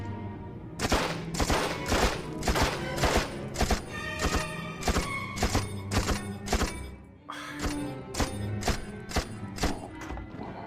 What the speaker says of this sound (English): Yeah, submachine guns, not really good for distance.